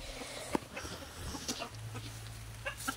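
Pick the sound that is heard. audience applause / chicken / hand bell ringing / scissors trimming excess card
chicken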